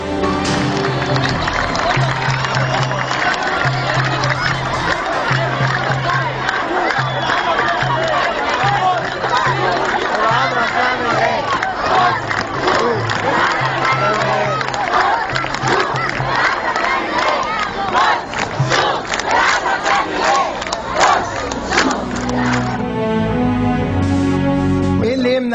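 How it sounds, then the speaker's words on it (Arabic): A large crowd chants and cheers in the street at night like sports fans, loud rhythmic shouting sustained for a long stretch, with a lower repeated drum-like beat underneath before the chanting gives way to a single voice. "أصل ده هتاف مشجعين رياضيين يعني"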